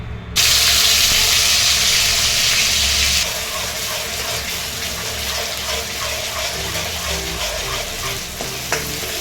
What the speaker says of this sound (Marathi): यात आत्ता मी जो वाटलेला मसाला आहे ना तो मी सोडणार आहे आणि त्याला चांगलं परतून घेणार आहे